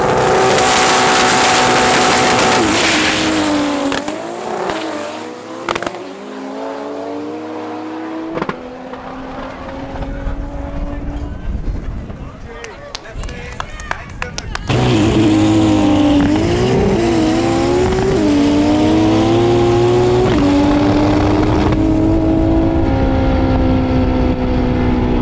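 Drag cars at Midvaal Raceway in the SA National Drag Challenge, including a car with a 1.48 valve pushrod motor, roar loudly with rising rev sweeps. The noise dips briefly midway, then another blaring launch surges down the strip.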